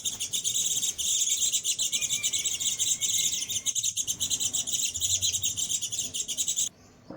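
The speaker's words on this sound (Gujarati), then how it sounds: "ચકલીઓના ચહેકવાના અવાજની સાથે દિવસની શરૂઆત થઈ ગઈ છે" Sparrows chirp busily in the early morning, a dense stream of bright overlapping tweets near the listener, continuing almost without pause over a quiet outdoor background.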